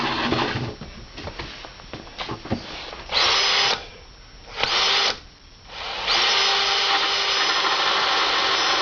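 A power drill fitted with a borrowed hole saw bores into a fence board, loud bursts of high whining cut starting and stopping in short runs, then a long sustained grinding cut to the end.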